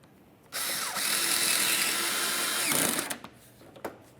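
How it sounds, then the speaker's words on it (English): Power drill driving a mounting screw into the headlight bumper bracket of a 2006–2011 Honda Civic, one continuous close whirring burst of about two and a half seconds, then a few short clicks. "Install your mounting screw."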